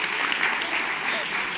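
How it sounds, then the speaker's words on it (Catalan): A short, dense patch of audience applause at an ERC Viladecans campaign presentation for the 2019 municipal elections, steady clapping with no clear break. "Aplaudiu, després el presento."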